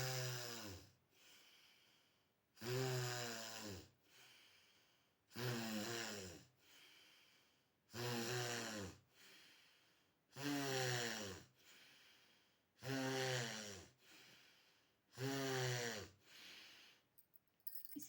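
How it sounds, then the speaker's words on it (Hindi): Forceful breathing through one nostril during anulom-vilom pranayama, with seven strong rhythmic breaths at roughly two-and-a-half-second intervals, each a harsh close rush of air separated by brief quiet gaps. "एक नाक को दबा लीजिए और एक नाक से साँस तेज़ी से खींचिए"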